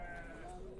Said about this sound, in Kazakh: Қозылар.